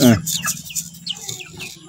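Hens cluck and chirp nearby while being fed, in a quick run of short, scratchy calls, with a brief human voice sounding at the very start.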